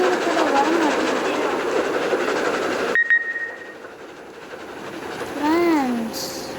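A train runs with a loud, steady rumble and rattle that suddenly cuts out, followed by a quieter background and a wavering horn-like tone near the end.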